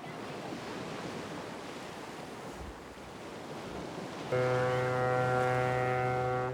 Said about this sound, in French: On entend les vagues.